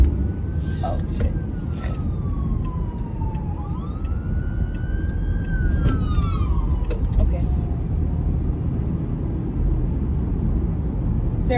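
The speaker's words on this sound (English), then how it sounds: "there was an ambulance and I couldn't get over" An ambulance siren wails and sweeps in pitch as it passes over steady road and engine rumble, rising and falling before fading.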